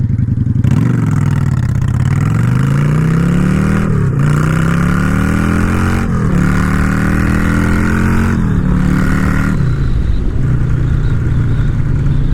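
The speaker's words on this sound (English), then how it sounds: "with that exhaust, I am addicted to that exhaust note" A Yamaha V-Star XVS 650 cruiser motorcycle engine revs repeatedly, its deep exhaust note climbing in pitch with each rev and then dropping back to a rumbling idle. It is loud and close.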